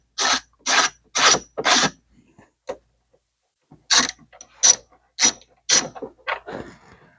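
A ratchet backs out the 8 mm airbox mounting screws on a Ford Explorer, with two sets of four evenly spaced, loud, close clicking strokes separated by a pause, then a few quicker lighter clicks.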